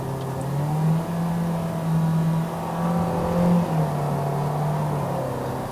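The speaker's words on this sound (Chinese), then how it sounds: "当我再把那个一脚油门踩下去，它的动力没有像你之前那个这样直接了" A 2023 Toyota Vios NGC102 on a Malaysian test drive accelerates under pressed throttle, a steady droning engine hum rising and dipping slightly in pitch, heard from inside the cabin.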